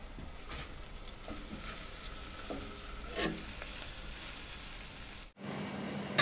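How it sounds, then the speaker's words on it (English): Kale and spring onions wilt in butter on a Ninja Wood Fire Grill, with a soft, steady sizzle and occasional stirring scrapes, quiet and close, with no talk. "So just wilting this kale and these spring onions down in this butter."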